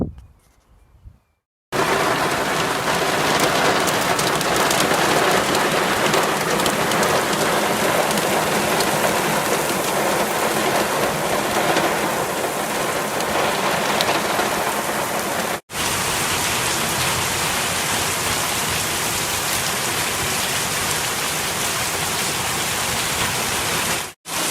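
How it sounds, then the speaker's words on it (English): Steady, heavy rain falls outside, a dense continuous hiss of drops hitting surfaces around an outdoor workspace with an immobilised car, loud and unbroken with no talking. "It's just started to rain."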